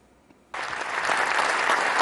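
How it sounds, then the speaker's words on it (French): After half a second of near quiet, a large crowd in parliament bursts into loud, sustained applause following the royal speech, a dense wash of clapping that builds slightly and continues to the end. "Un tonnerre d'applaudissements en réaction à ce message sans équivoque adressé aux banques et au secteur privé."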